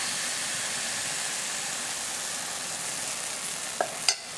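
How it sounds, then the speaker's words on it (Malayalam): Steady hiss of a hot pan as kaduku appam batter goes in, a soft continuous sizzle with two small clinks near the end, fairly quiet and unaccompanied. "ഇതിലേക്ക് മാവ് ഒഴിച്ച് കൊടുക്കുക"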